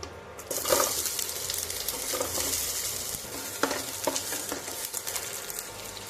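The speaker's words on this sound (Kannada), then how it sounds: "ಬಾಣಲೆಗೆ ಸ್ವಲ್ಪ ಎಣ್ಣೆ ಹಾಕಿ ಅದಕ್ಕೆ ಸ್ವಲ್ಪ ಸಾಸಿವೆ ಹಾಕಿ ನೆಕ್ಸ್ಟು ಈರುಳ್ಳಿ ಹಾಕಿ" Onion and mustard seeds frying in oil in a pan, heard as a steady close sizzle with occasional stirring scrapes and small clinks, no voices.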